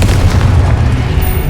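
Confringo, an explosive fire spell in the Hogwarts Legacy video game, lands as a loud, deep boom that rumbles continuously through the short burst during a boss fight.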